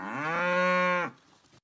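A Wagyu cow on a Danish farm gives one loud, close, sustained moo lasting about a second, followed by quiet background noise.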